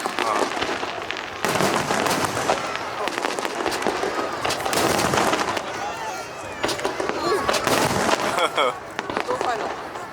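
A fireworks display over Dadaocheng in Taipei: repeated booming bursts and crackling shells of varying loudness, going off in quick succession, with spectators talking and exclaiming throughout.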